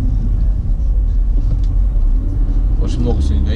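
A car driving along a one-way road in central Sochi toward Akhun, a continuous low engine and tyre rumble heard from inside the cabin, with a few brief knocks near the end.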